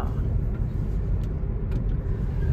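A Kia Seltos car cruising on a monsoon road, a steady low rumble of engine and tyre noise heard from inside the cabin, with no talk.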